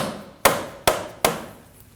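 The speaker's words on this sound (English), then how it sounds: "As you get the control arm into place, you may need to use a dead blow hammer." Dead blow hammer tapping a front control arm into place on a 2015-2024 Ford Edge: three sharp, evenly spaced close blows, each decaying quickly, with no talk.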